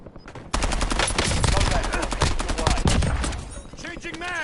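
Rapid automatic gunfire in Call of Duty Warzone, loud, dense bursts of shots running almost continuously from just after the start, with game effects near the end.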